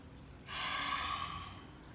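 Deep yoga breathing during a gentle sunrise session: a single forceful exhale rushes out through the nose or mouth, close and soft, lasting about a second before fading.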